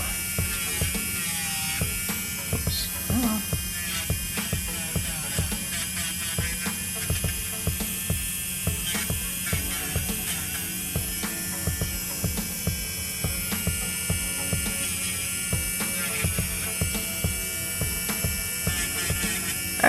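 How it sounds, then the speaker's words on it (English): Electric nail file with a thin bit sanding builder gel off press-on nails, a steady high motor whine with a pulsing grinding rhythm as the bit is pressed on and lifted, close and continuous throughout. "I'm going to go in with my nail file. I got a really thin bit here, and I'm just going to file all that product up."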